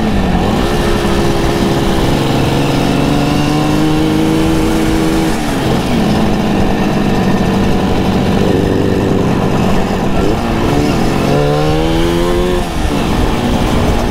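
A Suzuki GT185 motorcycle engine revs loudly and steadily during a ride, its pitch climbing and dropping through several gear changes.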